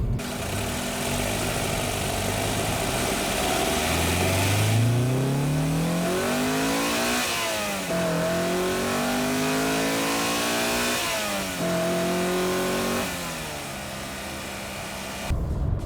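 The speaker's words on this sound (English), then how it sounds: "The car needs to be revved out." A Honda Accord Euro R CL1 engine revs hard through the gears, its pitch sweeping up repeatedly with shifts between climbs, loud and close with no talk.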